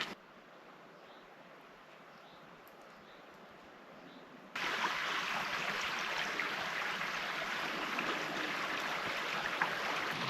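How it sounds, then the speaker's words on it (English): Steady broadband rush of a flowing creek beside a trail, quieter at first and then suddenly louder and fuller halfway through, continuous with no talking. "This trail is going along a creek right now"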